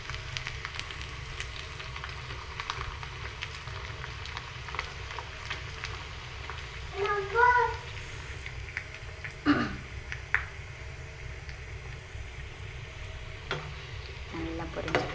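Sun-dried, crisp vadagam fries in hot oil with a steady soft sizzle, and a few clinks and stirring scrapes come from a utensil in the pan.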